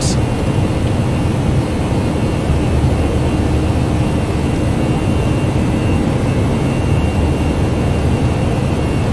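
Airbus A319 taking off in the ToLiss flight simulator, departing Southampton: a continuous loud, broadband roar of jet engines at takeoff power, steady throughout with no talk.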